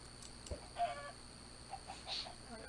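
Chickens in the Pantheon video game cluck in a few short, soft calls spaced across the moment, with faint game ambience and no voices.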